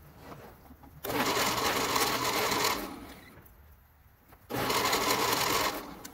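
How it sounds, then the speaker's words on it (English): Trimming tool on a lathe squaring the end of a spinning-top blank down to its brass tube, heard as two separate bursts of fast, buzzing cutting with quieter pauses between them. "you get a nice square end, and you can just see the shine of the brass tube coming through. This is cutting pretty quick"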